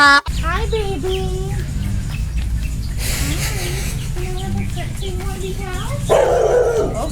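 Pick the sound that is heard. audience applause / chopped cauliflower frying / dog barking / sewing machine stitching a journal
dog barking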